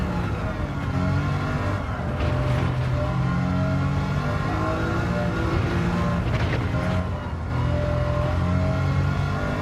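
A turbocharged BMW road car in Gran Turismo revs hard and steadily through rising and falling engine tones, loud and close, with two brief lifts of the throttle along the way.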